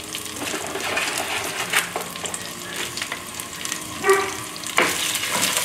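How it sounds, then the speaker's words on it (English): Jumbo shrimp stir-fry in oil with roasted peanuts, dry chili and spring onion, producing a loud, busy sizzle with repeated scraping and tossing from stirring, with no voices. "We're going to cook everything for a few minutes."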